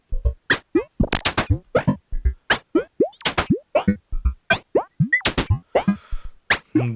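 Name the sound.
FM synthesizer oscillator on Gotharman's LD3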